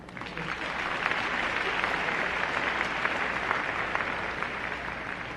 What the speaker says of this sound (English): You can applaud, that's fine.